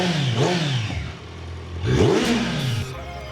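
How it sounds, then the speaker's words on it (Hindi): A Kawasaki Z900 motorcycle engine revs shortly after a cold start, close and loud, with two rising and falling throttle blips separated by a rougher idle. "So the first cold start of the bike"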